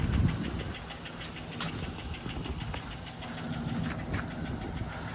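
A Saablazer SS engine that sat unused for a year runs steadily with a knocking, clattering idle, a continuous mid-pitched rumble carrying a few sharp ticks and clicks.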